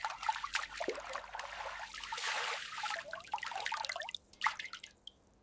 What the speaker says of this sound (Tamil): தண்ணீர் தெளிவாகும் வரை கழுவுங்கள்.